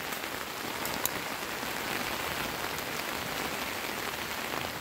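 Heavy rain pours down steadily at a campsite, a dense, even roar of drops drumming on surfaces with no pauses.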